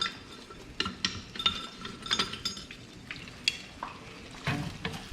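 Egg stir-fried in a hot pan for shrimp pad thai, a close sizzle broken by quick scraping strokes and light metallic clinks of a utensil against the pan, in uneven bursts.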